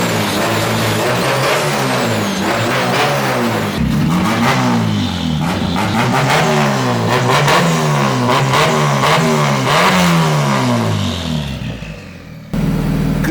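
A K24-swapped Nissan 240SX revs hard during a burnout, its engine pitch surging and dropping repeatedly, loud and close, before cutting off near the end.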